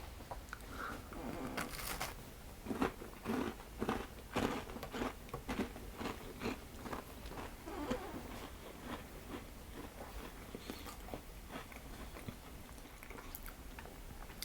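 Crunchy bites and chewing of a home-baked fruity oat cookie, crisp outside and softer inside, with a few sharp crunches followed by a run of close, rhythmic chewing, no talking.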